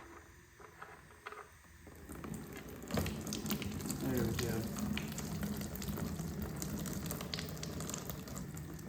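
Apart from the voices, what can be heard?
water draining out of a Chevy 350 engine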